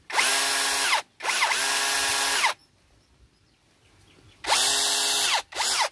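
Tanzu cordless drill whirring loudly in three bursts, two long runs close together, a quiet pause, then two more short runs, each spinning up steadily with a bright, high motor whine.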